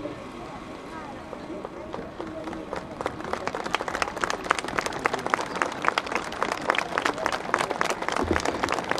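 A crowd at a patronal festival honoring Justo Juez in Corralito applauds visiting gauchos: scattered claps swell after a quieter opening into dense, sustained applause, with faint voices underneath.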